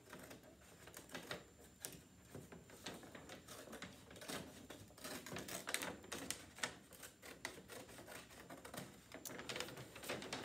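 Scissors snip through folded paper in a quiet room, a faint series of irregular crisp cuts and rustles with no talking.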